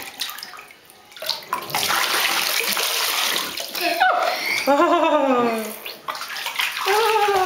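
Water splashing and running in a bathtub while a young child is bathed and lies on their back, a continuous close wash of water with splashes, and an adult and a voice heard over it.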